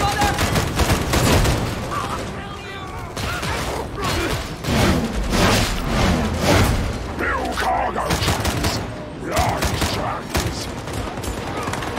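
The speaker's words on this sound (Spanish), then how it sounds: "¿Quién me está disparando?" Sustained gunfire aimed at the player in Warhammer 40,000: Darktide, rapid bursts and heavy booming shots with mechanical clatter, loud and close throughout, with a voice speaking over the shooting.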